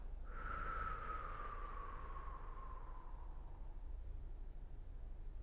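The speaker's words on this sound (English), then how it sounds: "you're going to exhale through pursed lips" A single soft, breathy exhale through narrowed lips, a steady airy whoosh that fades gradually over several seconds, close and quiet.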